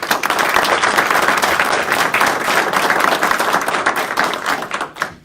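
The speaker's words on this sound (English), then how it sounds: "a round of applause to the Assyrian community that's come here today" Applause from a gathered Assyrian community audience at a political event, a loud, close burst of many people clapping steadily, tapering slightly at the very end.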